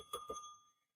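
A small handheld desk bell rung twice in quick succession on a live morning news show, bright ringing tones decaying over about half a second, close and alone.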